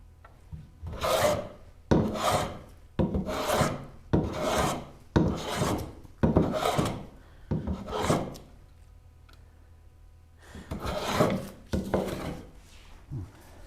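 Repeated long rasping strokes of a hand plane or rasp dimensioning cherry wood for a Moxon vise, about a dozen even passes with short pauses between, close and alone.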